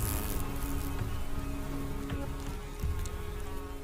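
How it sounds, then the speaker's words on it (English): A huge swarm of insects feeding on sugary honeydew in a New Zealand forest, making a dense, continuous buzzing drone that fills the air steadily, with no voices. "Their menacing buzzing dominates the forest."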